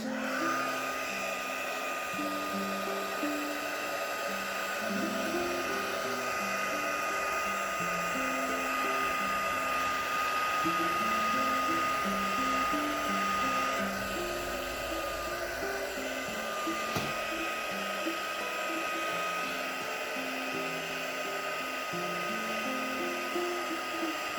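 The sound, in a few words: heat gun drying soft pastel painting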